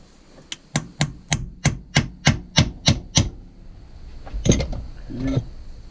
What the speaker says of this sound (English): I think I'll go to a smaller hammer.